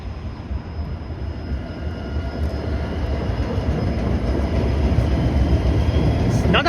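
A Toronto Line 6 LRT light-rail train runs with a steady, close rumble that slowly grows louder over several seconds, topped by a thin, constant electric whine.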